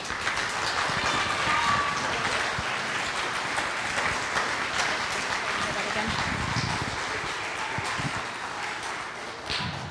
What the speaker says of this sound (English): If we can have another round of applause for our teachers.